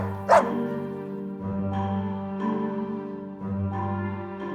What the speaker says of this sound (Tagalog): nagulat ng mismong sa mukha ko na tumatahol ang aso